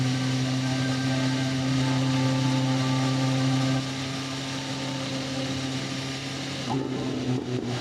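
A BMW S1000RR superbike engine runs with a steady, loud hum that holds even, then drops to a lower, quieter level midway and stays there, with a short burst of extra noise near the end.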